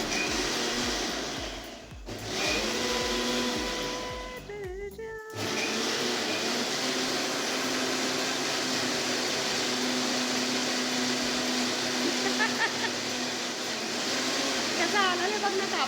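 A mixer grinder with a cloth draped over it whirs with a steady motor drone. After a brief pause the drone starts up again, and people talk over it.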